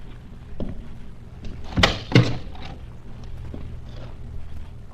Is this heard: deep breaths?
no